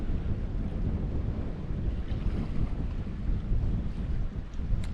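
Strong early-morning wind over the Great Sandy Strait buffets steadily and loudly, a constant low rumbling rush with gusty swells and no voices.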